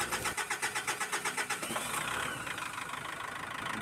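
A Mitsubishi Strada with a hard-starting, low-power, black-smoking engine cranks in a quick rhythmic run of turns, catches near two seconds and settles into a steady, loud diesel idle, heard alone.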